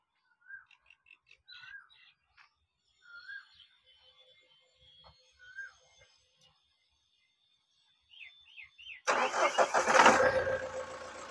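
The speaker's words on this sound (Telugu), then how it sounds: "एक बार गाड़ी स्टार्ट करो." Birds chirp in quiet surroundings for several seconds, then a 2015 Mahindra Thar jeep's engine cranks and catches with a sudden loud roar and keeps running close by.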